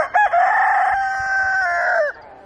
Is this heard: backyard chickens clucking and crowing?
yes